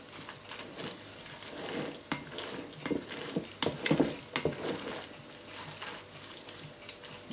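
A zucchini slice mixture sizzles and cakes in a hot pan, a soft steady frying hiss broken by scraping stirs of a utensil across the bottom, with no talking.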